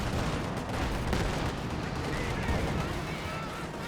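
A captured gun firing during a Company of Heroes 2 battle, with dense booming shots and artillery-like rumble blended into constant war-game noise, loud and continuous, while a commentator talks over it.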